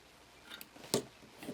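Scissors cut fabric for a chalice embroidery with a few quiet, close snips. One sharper crisp cut comes near the middle, with faint ticks around it.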